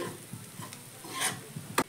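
Soft scraping and rubbing of a spatula through fried potatoes in a pan, a few quiet strokes, ending with a sharper metallic scrape.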